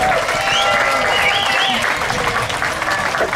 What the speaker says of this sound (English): give yourselves one huge great round of applause for helping such a marvellous cause